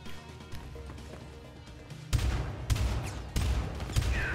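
Shotgun blasts in the Syndicate video game, fired at close range: a few loud, heavy booming shots in quick succession over a steady background of game noise.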